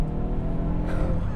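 A 275hp over-boosted 2022 Hyundai Veloster N DCT launching on a wet road, its engine roaring loud and strained at high revs as the tyres spin, close and continuous.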